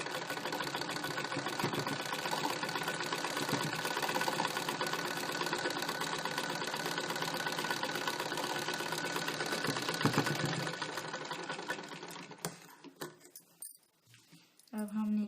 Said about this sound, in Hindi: उसके बाद हम इसे इस तरह से सिलाई कर लेंगे।